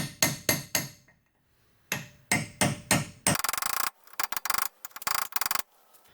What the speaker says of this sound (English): I just use a chisel and a hammer to pull this dust boot off.